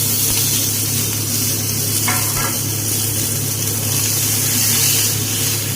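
Ginger and garlic paste sizzling in hot oil in a pan with chopped tomato going in, a steady loud frying hiss with a couple of soft clinks and stirring sounds.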